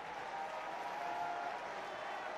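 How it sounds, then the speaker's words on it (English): A home crowd at a Florida vs. Texas college baseball game cheers and claps in a steady, distant wash, with a thin sustained tone running through it. No one speaks. "Home crowd urging on the freshman Jason Flores to try and limit the damage here in the second"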